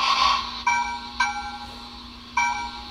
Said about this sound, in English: Turn the bell off.